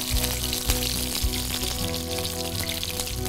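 A goose breast sizzles skin side down in a dry pan, rendering its fat with a continuous crackling hiss and occasional pops, close and steady throughout.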